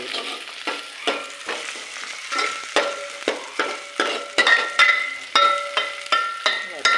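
Ginger garlic paste frying in hot oil in a pan for a village-style mutton dish, a loud, steady sizzle with repeated scraping stirs close by.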